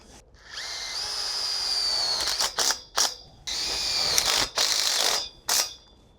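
Self-tapping screws driven into a purlin on a Gothic caterpillar tunnel frame, a power driver whirring in a long steady run, then several short, clipped bursts with brief pauses between them, close and loud with no talking.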